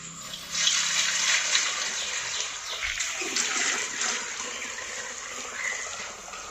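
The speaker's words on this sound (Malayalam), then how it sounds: "നമ്മുടെ കിണറ്റിൽ നിന്നും വെള്ളം കോരി എടുത്തു." Water drawn from an old village well splashes and pours steadily, a broad rushing wash that carries on throughout with a brief heavier slosh near the middle.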